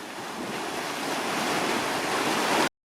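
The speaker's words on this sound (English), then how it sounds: "The waves crashing have created lots of caves in the shoreline." Waves crash continuously against a rocky shoreline lined with sea caves in Door County, a loud, broad roar of surf mixed with wind, building slightly before cutting off abruptly.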